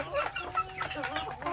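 Hens kept in a pen with a rooster cluck close by, a busy overlapping chatter of short clucks and squawks with no speech.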